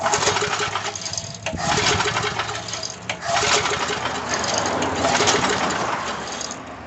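A frozen Coleman Powermate 2000 watt PM54-2000 generator pull-started with a suspected stuck valve, repeated near rasping cranking surges and brief sputters in uneven bursts.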